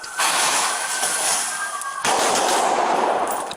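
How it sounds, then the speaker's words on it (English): Dense, sustained gunfire from a mass shooting crackles loudly throughout, with a brief dip midway before the barrage resumes, and sharp shattering-glass sounds mixed into the noise. "Amid the gunshots, you can hear shattering glass."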